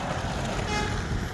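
Car horns toot amid passing road traffic in a Trump car parade in California, a dense, continuous wash of vehicle noise with honks blending into the rumble.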